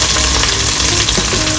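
Small onions frying in hot oil in a pan for a fish gravy, a loud dense continuous sizzle up close with faint stirring underneath.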